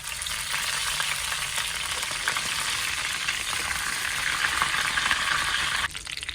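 Chopped shallots and curry leaves fry in coconut oil for a mutton head curry, making a dense, continuous close-up sizzle that drops slightly right at the end, and no one speaks.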